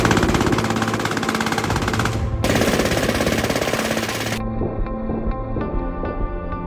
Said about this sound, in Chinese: 小哥决定先测试1挺机枪多久能将一个人打成碎片